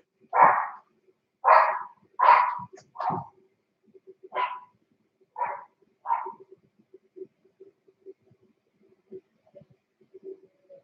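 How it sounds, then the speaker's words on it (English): A dog barks about seven times in a loose, uneven series, the first few loud and close, then shorter, softer yips and faint whimpering sounds trailing off in an otherwise quiet room. "dog barking"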